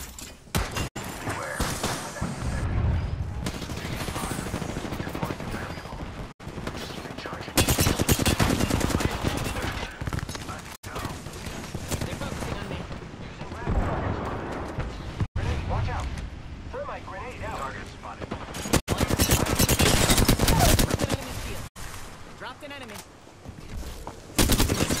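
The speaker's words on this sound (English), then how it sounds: "Opening fire on the enemy." Sustained automatic gunfire from a shooter video game, loud bursts and rapid fusillades running almost continuously with brief gaps, a voice talking over parts of it.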